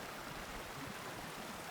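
A river flowing through Provo Canyon with wind, a steady broadband rush that stays even and unbroken throughout, faint and distant with no voices.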